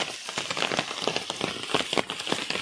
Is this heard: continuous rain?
yes